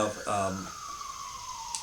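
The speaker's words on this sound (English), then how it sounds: "Oh, we got an ambulance." An ambulance siren passes with a single long falling wail that fades steadily, following a moment of talk at the start.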